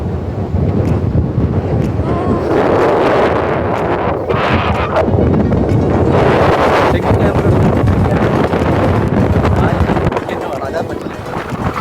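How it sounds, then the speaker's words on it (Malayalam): Strong wind at the hilltop of Kunnumpidari, Palakkad, buffets the microphone in loud, continuous gusts, with a roaring rush throughout and muffled voices partly buried beneath it. "നല്ല കാറ്റ് വീശുന്നത്. നല്ല കാറ്റ് കിട്ടോളൂ."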